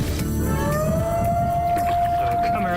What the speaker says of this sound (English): Around the corner in this little town, get their sirens blaring.